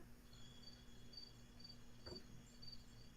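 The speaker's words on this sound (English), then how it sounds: "There's crickets and you know, Nature." Crickets chirping outdoors at night, with faint repeated high trills over a quiet background and a brief soft knock partway through.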